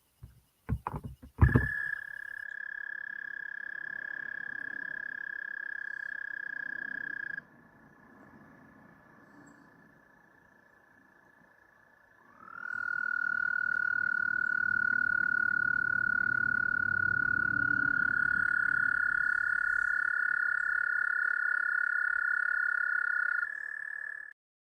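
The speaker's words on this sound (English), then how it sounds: "So it's a frog, yeah?" A frog croaking outdoors: after a few sharp clicks, a loud sustained tonal call holds steady for several seconds, pauses briefly, then resumes as a long, even, close droning croak.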